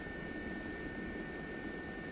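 Steady, loud helicopter noise in flight above the River Wyre near Cockerham, a broad continuous rotor and engine drone with a faint high whine, unbroken across the whole moment and with no voices.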